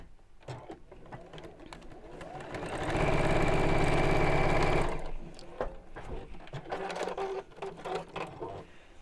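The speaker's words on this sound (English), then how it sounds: "match up the seams and sew straight across" A sewing machine runs steadily for about two seconds while stitching the seams of a quilted drawstring bag lining. Softer handling noises, rustling and clicks come before and after the stitching.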